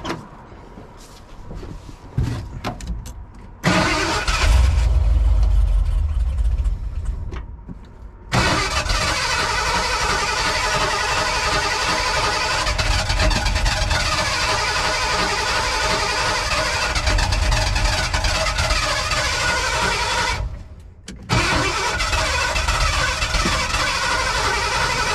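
A 1985 Ford Bronco engine cranks, catches and runs loud and close, with a steady rough idle interrupted by a brief drop-out before it picks up and keeps running.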